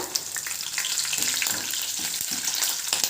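Green chillies frying in a pan with mint paste, a steady crackling sizzle throughout with a few soft stirring scrapes, close and fairly loud with no voices.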